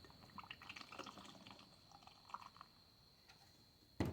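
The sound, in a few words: ink being poured into a container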